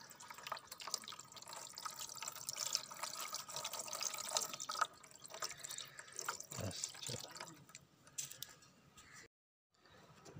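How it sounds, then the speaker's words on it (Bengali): Water is poured over a Gopal idol during a ritual bath, making soft, continuous trickling, splashing and dripping that fades near the end. "আমি এই গোপালকে স্নান করালাম"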